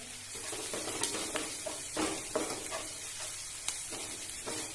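Curry leaves, asafoetida and turmeric sizzle steadily in hot oil, with soft stirring scrapes and light utensil taps against the pan recurring throughout.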